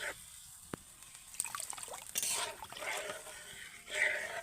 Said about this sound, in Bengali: এবার আমি কিন্তু পরিমাণ মতো জল দিয়ে দেব